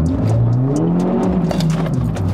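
Tuned Stage 2 BMW F30 330e accelerating hard, a loud throaty engine note climbing through the revs with sharp pops and crackles near the microphone, no talk.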